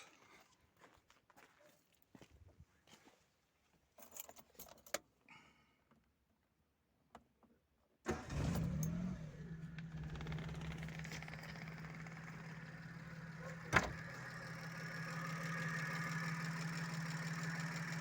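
A Daewoo Tico with a newly replaced ignition commutator cranks, catches and settles into a steady, slightly rough idle close by, after some quiet shuffling and handling noises beforehand.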